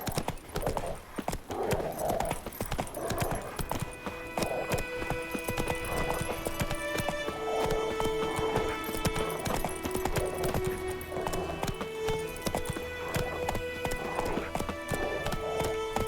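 Roach, a horse in The Witcher 3 video game, gallops in steady rhythmic clip-clop hoofbeats throughout, with occasional whinnies and game music and ambience underneath.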